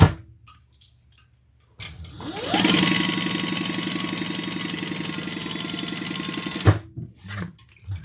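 Sewing machine stitching backpack fabric: a fast, even mechanical whir and rattle that ramps up, runs steadily for about four seconds, then stops abruptly, with small handling noises before and after.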